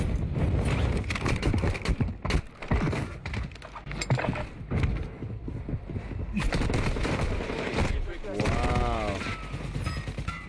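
Gunfire in the video game Warzone 2, dense bursts of rapid shots and impacts mixed with game effects, loud and nearly continuous across the whole stretch, with a player talking over it.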